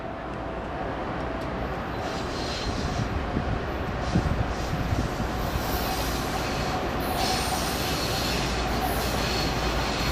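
An Amtrak train rolls past near Kansas City, a continuous loud rumble of wheels on rail with squealing and clatter throughout the whole stretch.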